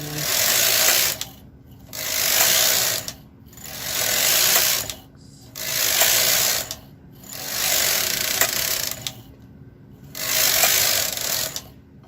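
A Brother KH 230 knitting machine's carriage is pushed back and forth across rows, giving six loud whirring, ratcheting passes about two seconds apart with brief near-silent pauses between them, close by and with no talking.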